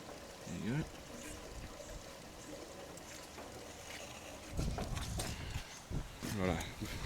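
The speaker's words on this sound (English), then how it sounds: "we'll get some water in the tank." Water is poured and splashes into the tank of a vertical Austral Model K stationary engine, with gurgling bursts near the start and again in the second half amid handling noises and possible background talk.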